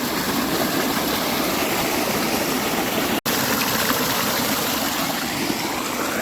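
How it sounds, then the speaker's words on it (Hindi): Clean groundwater flowing through farm fields in a village, a loud continuous rushing stream with a faint engine or pump hum beneath and a momentary dropout midway; no speech. "जो ये पानी खेतों में इस समय बह रहा है"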